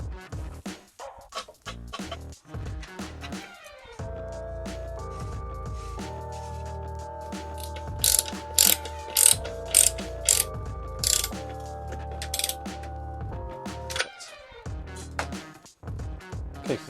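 Ratchet tool clicking while fitting a square taper bottom bracket into a 1994 Cannondale Super V mountain bike frame, rapid ratcheting bursts and metallic tool clinks close up, with a steady ringing tone through the middle.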